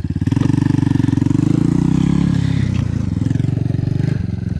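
A Yamaha WR400 dirt bike engine runs loud and close at a lake riding spot, a steady throbbing idle with a slight rise and fall in revs and some mechanical clatter, no talk.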